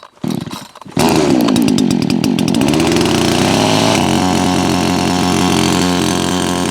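A gasoline chainsaw snarls to life after a brief start-up sputter, then runs loud and steady at high revs, with a slight drop in pitch toward the end.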